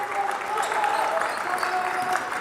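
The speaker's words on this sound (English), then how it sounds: "Crowd getting into it here on the West Bend East sideline" A high school basketball crowd cheers and applauds in a gym, a steady wash of noise under squeaking sneakers and a prominent voice talking over it.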